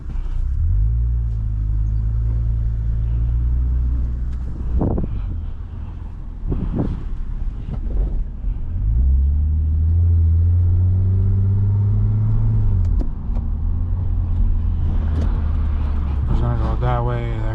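A crashed Lexus IS250 drives slowly around the block, its low engine rumble rising and falling through gear changes and accelerations, with talking throughout inside the car.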